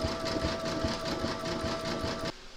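An embroidery machine satin stitches the feathers of a large appliqué parrot, giving a steady, loud, rapid mechanical whirring hum with a fine needle rhythm that runs continuously and then stops abruptly near the end.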